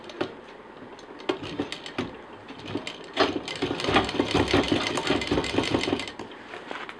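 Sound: sewing machine double stitching a sling bag

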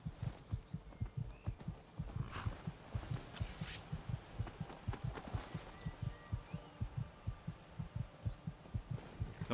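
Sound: heartbeat sound effect in the video game Skyrim

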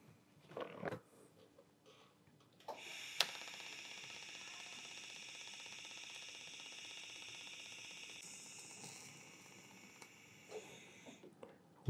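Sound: fusion welding stainless steel at about 45 amps

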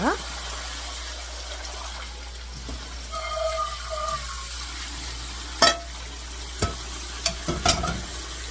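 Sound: boiled water dropwort poured into cold water

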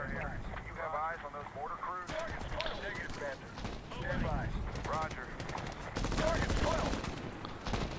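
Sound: gunfire from the video game Medal of Honor

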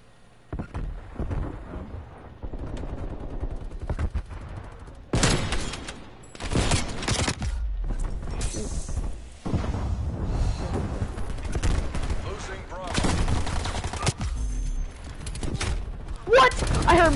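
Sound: gunfire in a video game

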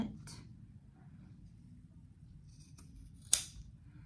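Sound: scissors trimming the corners of sewn fabric

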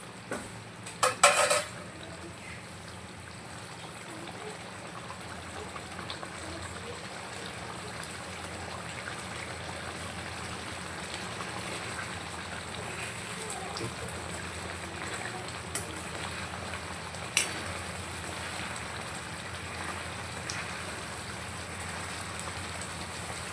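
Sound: eggplant curry simmering in black masala

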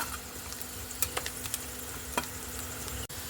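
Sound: minced garlic and chili frying in a pan

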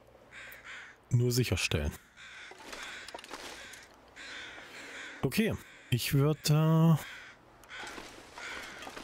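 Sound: crows cawing in video game The Long Dark

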